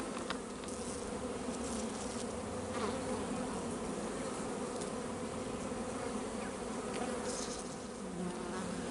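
Honeybees buzzing steadily around an open, healthy hive during a spring inspection, a dense, even hum close by with no speech over it.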